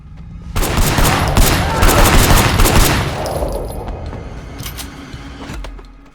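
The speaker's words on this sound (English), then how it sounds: "We're now switching seamlessly from a hand-to-hand combat mission to a shooting mission" Gunfire in the video game Sleeping Dogs during a shooting mission: a loud, dense burst of rapid shots for a couple of seconds that tails off into scattered fainter shots and echo.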